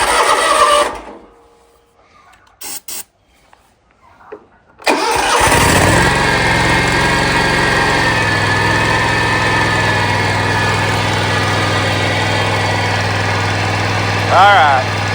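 Small engine with a choke being started by hand: a few sputtering attempts and brief bursts catch, then it fires and settles into a loud, steady idle that holds near and constant, with a voice heard in the clip.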